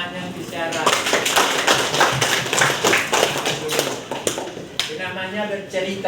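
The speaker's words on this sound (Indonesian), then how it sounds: "Tepuk tangan yang bicara." A group applauds during a classroom teaching session, a dense run of rapid hand claps that swells and fades over several seconds with voices mixed in.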